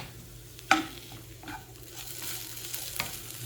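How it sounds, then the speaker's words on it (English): Okra fries in a pan with a soft continuous sizzle, and a utensil stirs it with one sharp scrape followed by lighter shuffling strokes, close and without talk. "In between, just open and just give a stir."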